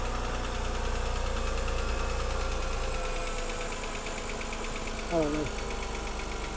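A BMW engine idles with a steady low hum and a faint rhythmic tick. A person briefly speaks over it near the end.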